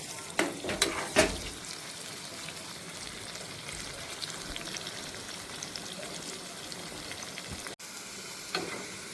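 Onion tempering for Andhra pappu charu sizzling and crackling in a hot pan, a steady close-up fry with a few sharper stirring bursts early on and no voices.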